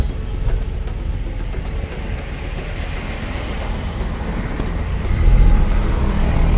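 A car driving, heard from inside the cabin: a steady low rumble of engine and road noise runs throughout, swelling slightly louder near the end, with no talking.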